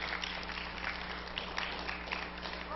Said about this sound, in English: Go ahead and give Him a hand clap of praise